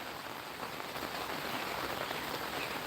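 Steady rain falling outdoors, a dense even hiss of drops on surfaces with no breaks, moderately loud and close, alone without voices.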